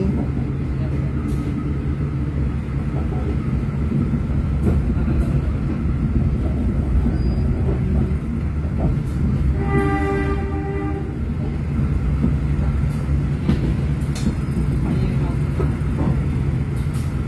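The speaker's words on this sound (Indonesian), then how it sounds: "kereta api Tawang Alun diberangkatkan dari stasiun Malang Kota Lama" Tawang Alun passenger train departing Malang Kota Lama station: a steady low rumble of a moving train heard from on board, with rattling and clanking throughout and a brief horn-like tone around the middle, a voice faintly present.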